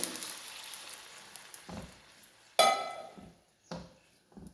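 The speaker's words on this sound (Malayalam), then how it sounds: "ശർക്കരപ്പാനി ഒഴിച്ചു കൊടുക്കുകയാണ്" Jaggery syrup is poured into cooked rice frying in ghee, giving soft, scattered sizzling bursts with a sharper hiss in the middle and faint clinks of a pan.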